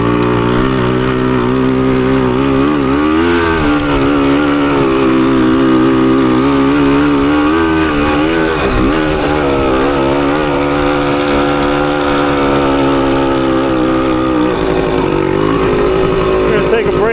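A 1980 Suzuki TS185 motorcycle engine runs steadily and loudly up close with a slipping clutch, its drone rising and falling slightly in pitch as revs wander, with no gaps over the whole stretch.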